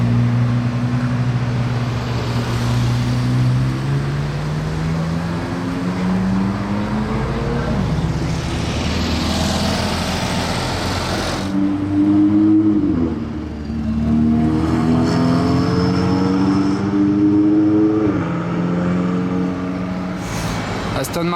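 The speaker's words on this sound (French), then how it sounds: "Aston Martin Valkyrie les amis, regardez, j'étais pas prêt." An Aston Martin Valkyrie drives past on a street, engine sound rising and falling through gear changes in a loud, sustained passage, with other traffic and voices nearby.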